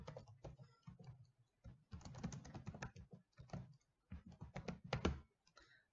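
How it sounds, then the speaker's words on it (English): Quick bursts of typing on a computer keyboard, close and clear, with short pauses between runs of keystrokes and no voices. "or I can just type it."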